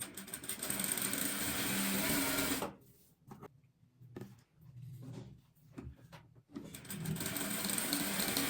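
Sewing machine stitching a seam joining quilted metalassê panels on a single-bed 3D bedspread, a loud steady whirring run that stops, a few short bursts with handling clicks, then continuous stitching again.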